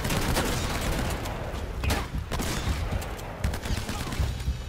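Dense gunfire in Uncharted: Drake's Fortune, a continuous barrage of overlapping shots and impacts, loud and close, with no pauses through the whole stretch.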